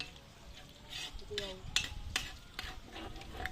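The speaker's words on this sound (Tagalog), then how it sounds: "gigisa natin lang ang bawang" Garlic sautéing in a pan for spaghetti, a soft sizzle broken by brief scraping stirs and light utensil clicks.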